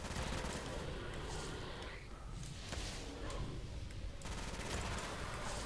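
AK rifle fire in a Minecraft zombies map comes as dense, continuous bursts of game gunfire, loud and sustained throughout with brief gaps.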